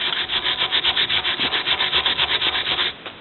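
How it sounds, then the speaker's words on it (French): Steady rhythmic scrubbing of a wire brush over fresh stainless steel weld slag, about a dozen even back-and-forth strokes, close and loud, stopping abruptly near the end. "On brosse à la brosse."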